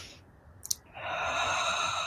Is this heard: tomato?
no